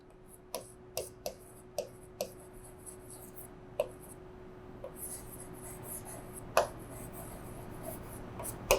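A pen writing on paper during a Hindi accounting lesson on company financial statements, with sharp taps and short scratchy strokes in quick bursts, then sparser faint scratching over low room hum.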